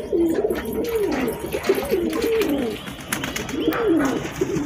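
Several domestic pigeons coo at home in the sun after being bathed, giving repeated soft, rolling calls at close range over quiet background noise.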